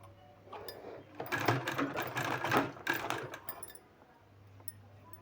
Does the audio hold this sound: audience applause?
no